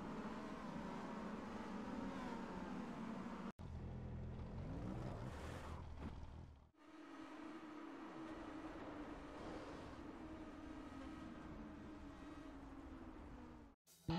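A race car engine in a sim racing game drones steadily at high revs, then drops sharply through downshifts while braking into Moss Corner before settling into a lower, even engine note, faint and without talk.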